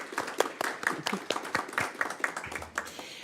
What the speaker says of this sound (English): if we can just give them a big round of applause to thank them